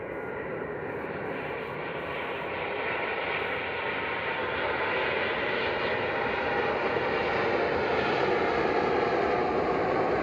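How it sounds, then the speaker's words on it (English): EasyJet Airbus A320 landing at Manchester Airport, a strong, steady jet roar that builds slightly and sustains without a break, with no talking over it. "here's the A320 touching down for EasyJet"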